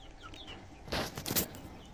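Backyard bantam chickens with young roosters cluck softly, with a brief louder burst of clucks or wing flutter near the middle, close by and without talk.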